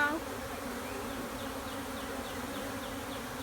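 A swarm of bees hums in a dense, continuous buzz close by, a steady drone with individual insects whirring past.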